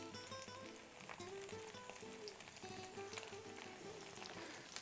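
Birria tacos sizzle and fry on a hot griddle, a steady close crackle with scattered pops running throughout, with soft background tones underneath and no talking.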